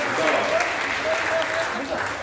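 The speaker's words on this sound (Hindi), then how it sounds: "एक बार सारे लोग मुझे तालियां बजाकर बताएं।" Audience applause at a Hindi talk forms a steady, moderately loud wash of clapping that keeps going throughout. Faint tonal voice traces sit beneath it.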